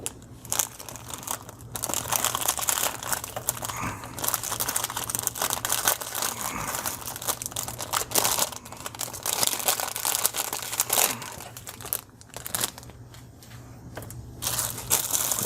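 Crinkling plastic from the double bags of a LEGO Collectible Minifigures Marvel Super Heroes set 71031 being opened, a close, steady rustle and crunch that runs almost continuously for about fifteen seconds, with no talking.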